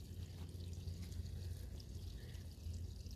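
Water running steadily from a tap or hose while watering plants, a soft continuous flowing hiss with low rumble, fairly quiet and unbroken.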